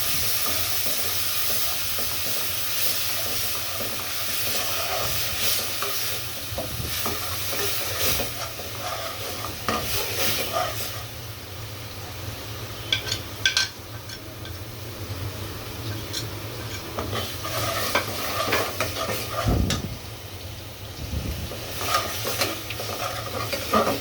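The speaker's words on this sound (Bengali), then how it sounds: "এভাবে পেঁয়াজটা ভেজে নিয়ে এখন মশলাগুলো দিয়ে দিব" Onion with ginger-garlic, cumin and onion pastes frying in a pan, a soft steady sizzle with intermittent stirring clinks and scrapes, quiet and without talk.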